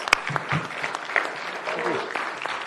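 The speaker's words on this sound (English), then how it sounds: "Please give Steve a big round of applause." Scattered applause at a city council meeting honoring a long-serving information systems manager, a modest round of clapping with individual claps standing out, fairly thin and moderately distant.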